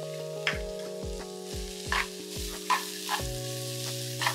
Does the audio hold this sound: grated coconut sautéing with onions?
yes